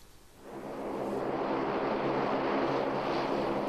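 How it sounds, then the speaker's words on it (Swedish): A Saab 340 turboprop airliner taxis in at Dala Airport, its propeller engines swelling from quiet to a steady, loud droning whine that holds for several seconds, alone with no voices. "När Saab 340 taxar in till Dala Airport är en av de senaste nyheterna från Saab"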